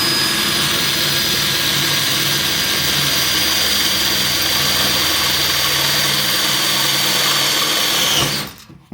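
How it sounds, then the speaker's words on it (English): Power drill boring steadily through a plastic panel into the metal inner body panel of a Land Rover Freelander 2, a loud continuous grinding whine that cuts off abruptly near the end. "okay, so we've drilled all the way through now"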